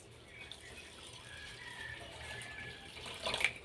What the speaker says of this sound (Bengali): এবার চিড়েটা আমি ধুয়ে নেবো